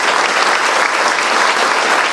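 Loud, dense applause from a crowd at a commemoration ceremony, steady clapping throughout with no voices standing out.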